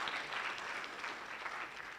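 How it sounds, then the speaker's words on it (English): Guests at the Maasai Mara 9th graduation ceremony applaud in a steady, fairly faint wash of many hands clapping, heard at some distance from start to finish. "Another round of applause for our distinguished guests."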